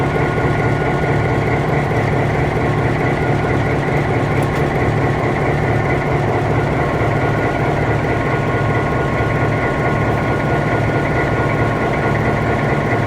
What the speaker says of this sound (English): This is the engine, 16 cylinders.